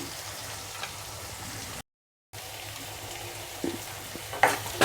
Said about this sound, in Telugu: నేనైతే టమాటా చిన్నది వేశాను టేస్ట్ ఉంటుంది అనేసి టమాటా ఉడకనిద్దాము